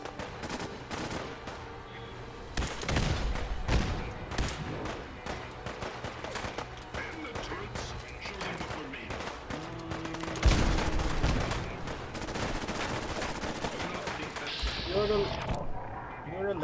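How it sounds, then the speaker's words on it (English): Rapid ship cannon fire and booming shots from the USS Constitution in the video game Fallout 4, dense and continuous, with people talking over the barrage. "Fire the cannons!"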